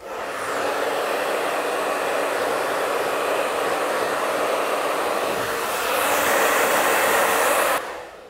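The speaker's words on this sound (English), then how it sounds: "and put a dryer on this" A hair dryer blowing on brushed, styled hair, a loud continuous whooshing roar that runs steadily for several seconds, shifts pitch briefly near the end, then cuts off abruptly.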